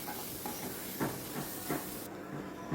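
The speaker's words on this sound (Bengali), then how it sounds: "অনবরত নেড়ে নেড়ে গোবিন্দভোগ চালটাকে একটু ভাজা ভাজা মতো করে নেব" Gobindobhog rice stirred constantly and fried in a pan over medium-high heat, giving a steady close sizzling hiss broken by soft, regular scraping strokes about every half second.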